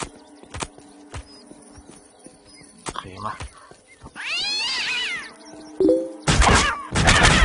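A cat in the video game Postal 2 lets out a loud, drawn-out meow amid clicks and game effects, followed by bursts of other noise.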